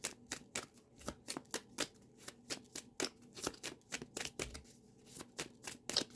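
Tarot cards being shuffled by hand: quick, crisp riffling snaps in a steady run of close, sharp bursts, with no voices.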